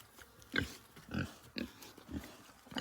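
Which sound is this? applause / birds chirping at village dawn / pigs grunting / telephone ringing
pigs grunting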